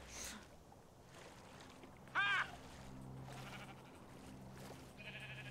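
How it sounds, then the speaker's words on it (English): In the video game Minecraft: Story Mode, a sheep gives one short, clear bleat over a quiet, steady game background. "Is that the sheep? Look at the sheep!"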